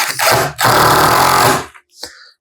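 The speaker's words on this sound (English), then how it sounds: "Our square drive for our pocket screws." A power screwdriver drives square-drive pocket screws into a wooden tabletop, giving two close, loud bursts of motor whir, the second longer, followed by a short faint tail.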